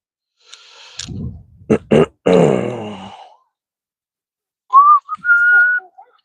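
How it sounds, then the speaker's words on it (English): A few short grunting vocal sounds, then after a pause a brief, rising whistled tune from a person, close and clear. "I hate whistling too. I'm not a whistler."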